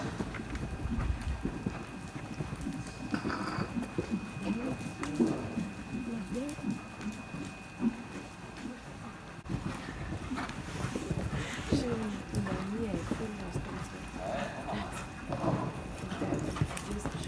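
Horses cantering during an indoor riding lesson: continuous rhythmic hoofbeats on soft footing, moderately near, with an instructor talking over them throughout.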